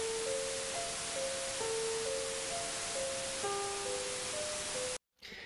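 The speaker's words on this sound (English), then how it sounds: "So adding the white noise to our piano sound then sounds like this." A piano recording with white noise layered over it, a loud steady hiss nearly burying a sequence of sustained piano notes, which stays constant for about five seconds before a short break.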